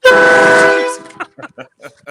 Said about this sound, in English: Those are the train horns.